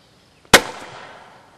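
An airsoft propane projectile grenade fires outdoors with a single sharp, loud bang, followed by a gradually fading hiss of escaping gas.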